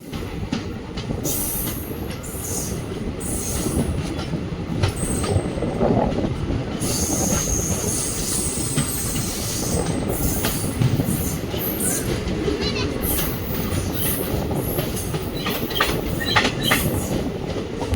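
The Vishwamanava Express passenger train runs between Mysore and Belagavi with a loud, continuous rumble from inside the coach, steady wheel clatter and intermittent high metallic squeals from the rails.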